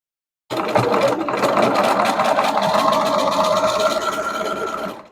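A sewing machine runs steadily, stitching a French seam in fabric with a continuous close mechanical whir and rapid needle rhythm that starts abruptly and stops near the end, with no talking.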